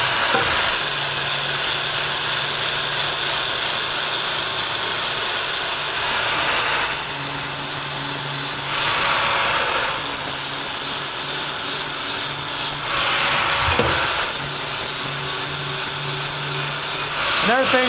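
A power tool scours mill scale off steel roll cage tubing, producing a loud, continuous abrasive whine that shifts in pitch and intensity as the tool is worked along the metal.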